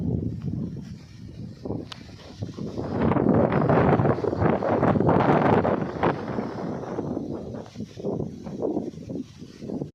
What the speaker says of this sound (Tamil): காற்று அடிக்கையில் அந்த தென்னை மரமே உழுகுற மாதிரி ஆடுது பாருங்க